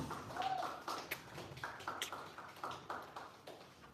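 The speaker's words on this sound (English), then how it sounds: "Come on, guys, a round of applause." Audience clapping at a live event, a scattered round of hand claps welcoming the convener, moderately loud and uneven, with a brief tonal whistle early on.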